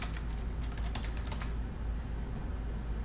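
Rapid keystrokes on a computer keyboard as a plugin name is entered into a search field, a quick close burst of clicks in the first half followed by quiet room tone.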